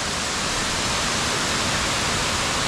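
A waterfall in the Knuckles Mountain Range roars close by as a dense, unbroken rush of falling water, loud and even throughout.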